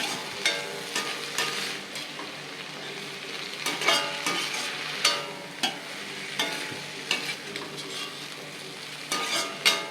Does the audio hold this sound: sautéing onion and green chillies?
yes